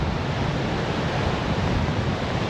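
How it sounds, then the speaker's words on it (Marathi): Rough monsoon sea at Bhandarpule beach in Ratnagiri makes a continuous, loud, dense roar of surf, heavy and unbroken throughout, with possible wind buffeting mixed in. "समुद्राने एकदम रौद्ररूप धारण केलेलं आहे"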